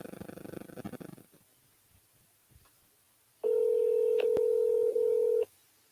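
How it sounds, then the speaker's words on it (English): A telephone call placed to a home phone, with rapid clicking dial pulses at first, then quiet, then a loud steady electronic tone with keypad beeps lasting about two seconds before cutting off. "Let's try his home phone."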